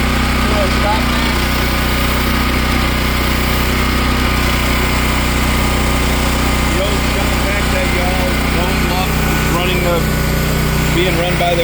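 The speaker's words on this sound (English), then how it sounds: "So we're going to plug the generator in today." A Champion dual fuel generator runs steadily at home, a loud continuous engine hum and buzz throughout, with scattered birdsong or chirps over the top.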